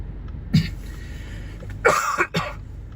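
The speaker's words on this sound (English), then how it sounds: "I've noticeably been coughing more today than yesterday." A person driving through heavy wildfire smoke coughs several times: one short cough early, then a longer burst of throaty coughing near the end, close and fairly loud over a low vehicle rumble.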